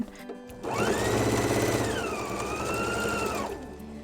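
Sewing machine running steadily while stitching quilt blocks with a 1/4 inch foot, a continuous close motor hum with a rising and falling pitch that starts after a brief pause and runs for about three seconds.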